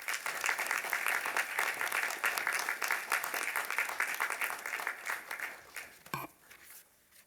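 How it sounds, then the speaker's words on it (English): Audience at a university graduation ceremony gives a round of applause for the graduates, a broad sustained clapping that thins and fades toward the end with a few scattered final claps. "I think we've all earned one more round of applause for our great graduates."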